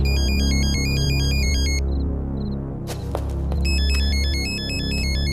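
A phone ringtone plays loudly in a beeping electronic pattern, pauses briefly, then resumes over a steady low hum in an action film scene.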